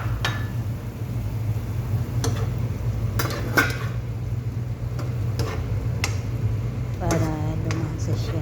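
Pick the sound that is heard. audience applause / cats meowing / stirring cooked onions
stirring cooked onions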